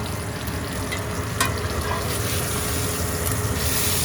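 Wagyu steak deep frying in its own rendered fat sizzles with a loud, continuous crackle and spatter, close up and uninterrupted, with no talking.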